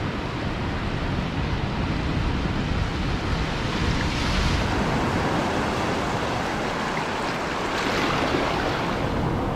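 Surf washes steadily over a beach at night in a dense, continuous broadband roar, with wind buffeting the microphone and two slightly louder swells breaking through, no voices.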